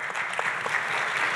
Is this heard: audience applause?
yes